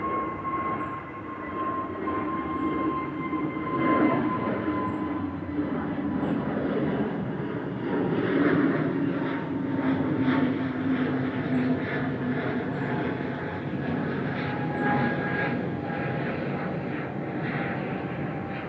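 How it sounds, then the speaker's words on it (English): An EasyJet Airbus A320neo departs Manchester Airport, a steady, loud jet engine roar sustained throughout with a broad rushing tone and faint whining harmonics. "EasyJet 7852 to Amsterdam, OELUE, A320 Neo departing there."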